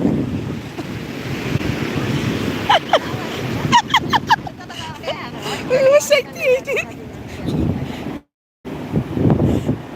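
Sea waves wash onto Vettukad beach under gusty wind that rumbles across the microphone, while several people talk and call out over the surf.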